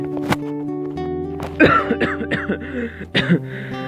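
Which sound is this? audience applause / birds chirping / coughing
coughing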